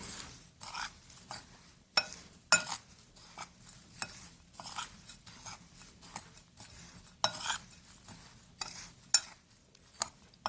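Repeated scraping and rasping of a spoon stirring walnuts in a bowl, with irregular strokes and occasional sharper clinks, close by and fairly quiet.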